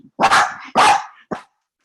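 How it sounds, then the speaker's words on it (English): Dogs barking up close indoors, three sharp loud barks in quick succession, the last one shorter, with nothing else heard. "Those are my dogs. They love to bark at everything."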